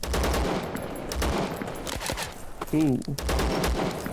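Rapid gunfire in the looter-shooter Zero Sievert crackles in repeated loud bursts, mixed with other game sounds, while a man briefly exclaims partway through.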